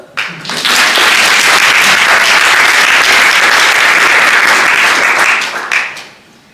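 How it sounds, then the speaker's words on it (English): Conference audience at a health summit session breaks into loud, sustained applause that swells quickly, holds as a dense wash of clapping for several seconds, then tapers off. "Another round of applause."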